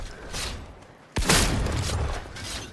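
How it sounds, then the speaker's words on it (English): Gunfire from the player's gun in a video game, a sharp loud blast at mid-clip followed by a sustained burst of shooting and rumble, with quieter noise before it. "I love how it plays like a dramatic tune now every time I shoot somebody"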